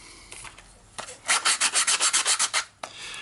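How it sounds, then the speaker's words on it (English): Rough sanding strokes on a 3D printed part, a quick run of about ten rhythmic rasping rubs, close and loud with no talking. "I'm going to go ahead and finish the rough sanding"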